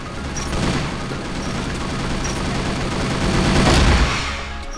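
Sustained M60 machine gun fire in the CrossFire video game, a continuous loud, dense roar of rapid shots that swells toward the end and then cuts off.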